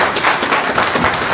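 An audience at an event claps in steady, dense applause, loud and close, continuing for the whole moment.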